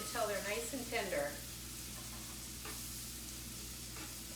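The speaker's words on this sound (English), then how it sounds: "we're going to go ahead and put our onions in. And you're just going to let these cook until they're nice and tender" Onions cooking in a pan for a chickpea channa wrap give off a steady, soft sizzling hiss that runs on alone after a voice is heard briefly at the start.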